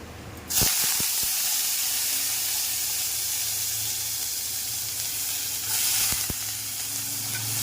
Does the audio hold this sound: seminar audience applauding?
no